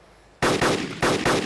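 Gunfire in DayZ Epoch on Namalsk: after a quiet moment, three loud, close bursts of rapid automatic fire, each lasting a fraction of a second.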